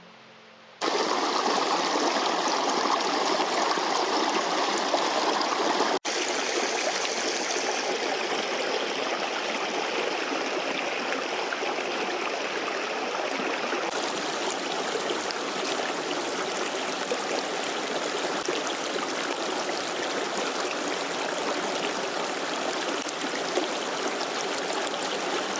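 Creek water flowing steadily over rocks, a continuous broad rushing and trickling close by, with no talk.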